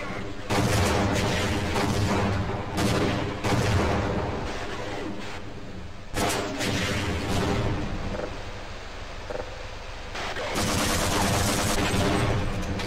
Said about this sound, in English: Alright, rocket launcher time.